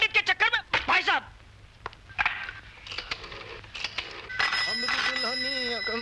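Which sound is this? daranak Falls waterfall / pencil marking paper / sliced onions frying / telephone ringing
telephone ringing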